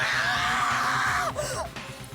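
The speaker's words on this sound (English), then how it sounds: "a wild, almost primeval scream escaped my mouth." A wild, primal scream in the game Danganronpa: Trigger Happy Havoc rises loud and strained, then breaks off into shorter cries near the end.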